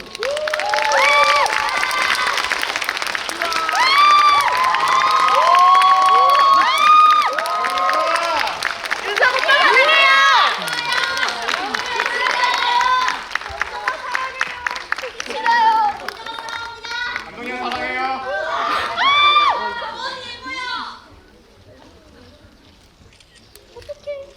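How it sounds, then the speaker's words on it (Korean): A theater audience at a film talk event welcomes director Kim Yoon-seok and actress Yeom Jung-ah. Lively voices and cheering blend with bursts of clapping over a long stretch, fading to near quiet at the close. "박수로 맞아주세요"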